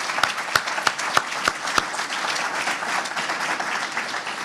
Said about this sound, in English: we owe them another round of applause